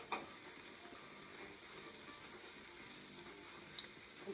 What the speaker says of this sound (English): you want to hear a really big sizzle when you put this in here